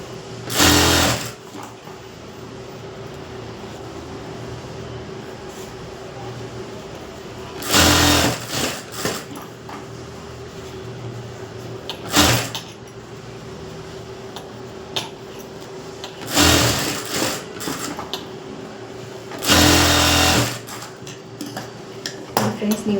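A sewing machine stitches blouse fabric in several loud, rapid bursts separated by quieter stretches of low hum and handling, recorded up close.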